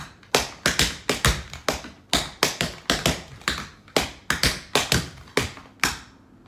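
Tap shoes striking a hard floor in single and double time steps, a steady stream of sharp clicking taps and heel thuds in repeating rhythmic phrases, close and clear with no voice.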